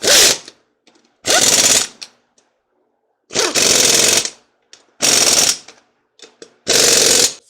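A Hercules 20V brushless 3/8-inch compact impact wrench hammers in five loud, rapid rattling bursts of about half a second to a second each, separated by near silence.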